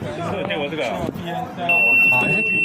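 A small electronic buzzer on a circuit with a resistor gives a thin, steady high-pitched tone that starts partway through and holds, under a man's close, continuous talking.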